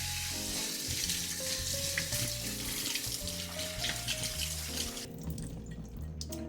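Water runs from a tap over almonds in a strainer as they are rinsed, making a steady broadband rush that stops near the end, mixed under continuous background music.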